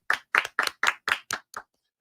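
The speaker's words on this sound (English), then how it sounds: "Declan gets more applause." Seven sharp, evenly spaced hand claps ring out close and alone, slowing slightly and fading toward the end.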